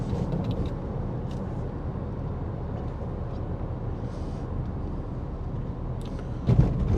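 A car rolls slowly along a coastal road near Protaras, giving a steady low rumble of engine and tire noise from inside the cabin, with a brief thump near the end.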